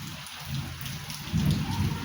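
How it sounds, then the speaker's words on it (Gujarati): Steady rain falls in a village as a storm with strong wind begins, a dense hiss of drops close to the microphone with no voices. "જો આ છે વરસાદ ચાલુ થઈ ગયો છે"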